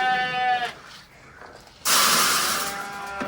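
Sheep bleating near a farm gate, a clear wavering bleat at the start, followed by a quiet pause and then a sudden loud burst of rustling, clattering noise.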